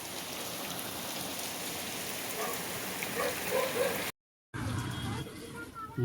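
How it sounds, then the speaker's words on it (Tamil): Heavy rain pours steadily in Pondicherry, a dense, even hiss of drops drumming on surfaces, broken by a brief gap before the downpour resumes. "பாண்டிச்சேரியில் மழை வச்சு பொல பொலன்னு பொழந்துகிட்டு இருக்குது"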